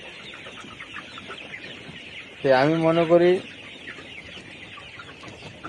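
A 70-day-old layer hen at a poultry farm gives one loud, drawn-out cluck in the middle, with a faint voice and farm ambience around it.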